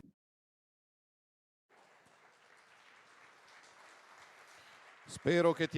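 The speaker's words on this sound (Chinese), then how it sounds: "我希望你在华盛顿能听到来自会场的掌声" Distant applause from a large crowd swells gradually, steady and a bit muffled, until a voice starts speaking over it.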